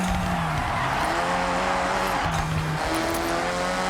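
In Forza Horizon 6, an all-wheel-drive car slides as its rear end kicks out, the engine revving loudly with shifting pitch while tires scrub and squeal across the surface.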